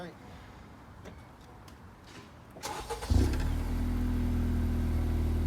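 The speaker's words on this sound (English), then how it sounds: "so we'll go ahead for the cold start" Cold start of a 2019 Honda Accord Sport 1.5T fitted with a Thermal R&D exhaust: quiet talk and shuffling, then the starter catches and the engine flares loudly before settling into a steady, rumbling high idle.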